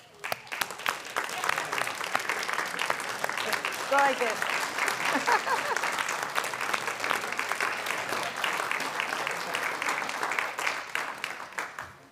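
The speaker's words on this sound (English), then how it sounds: "stand up and give yourselves a round of applause for all the volunteering you do here at Temple" An audience at a Temple Beth El annual meeting and volunteer appreciation in Madison, Wisconsin, claps in sustained, dense applause for the synagogue's volunteers, with a voice briefly speaking over it partway through.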